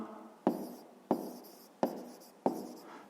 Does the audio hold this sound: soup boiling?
no